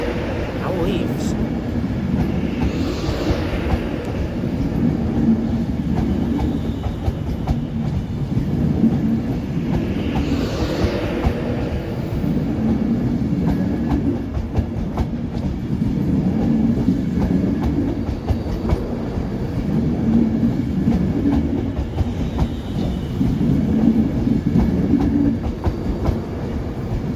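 A Class 390 electric train pulls out of Manchester Piccadilly with a low, steady rumble and regular rhythmic clicks over the rail joints, while someone talks over it.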